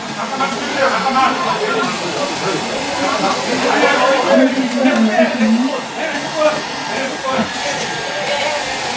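A hair dryer blows a steady, rushing broadband hiss onto a ballot seal sticker, running continuously at close range while people talk over it.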